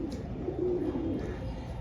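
A pigeon coos softly nearby, a low throaty call rising over a steady background hum, with no voices.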